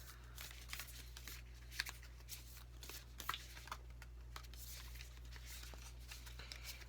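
New round tarot cards are shuffled in soft, irregular riffling bursts, faint and close, over a low steady hum with no talking.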